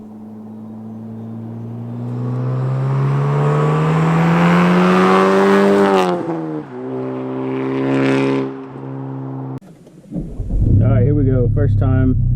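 A Honda Civic Type R FK8 with an AWE track exhaust passes by, its engine note rising in pitch while wind noise buffets the microphone, then fading out before another loud rev bursts in near the end.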